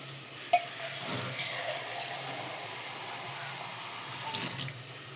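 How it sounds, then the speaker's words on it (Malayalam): A little water splashed into a simmering curry in a pot, a brief pouring gush near the start and another near the end over a low hiss of steam and sizzle. "ഇനി നമുക്ക് ഇച്ചിരി വെള്ളം ഒഴിച്ച് കൊടുക്കാം"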